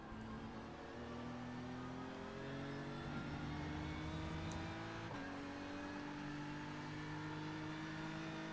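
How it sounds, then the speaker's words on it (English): A Lamborghini race car engine in the iRacing video game, during an IMSA series race at the Indianapolis Road Course, holds a steady, continuous drone with shifting revs throughout, no voices over it. "I can hear the Lamborghini engine now."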